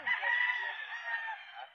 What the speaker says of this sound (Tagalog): ito yung mga manok ni Boss Vic